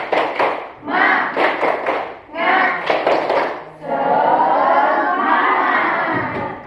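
Primary-school pupils in a sixth-grade class do a rhythmic spirit clap. Sharp claps come in quick patterned bursts with shouted chanting, then the whole class cheers together in a loud, sustained group shout.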